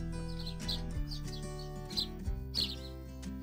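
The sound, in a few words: birds chirping in a Scottish countryside garden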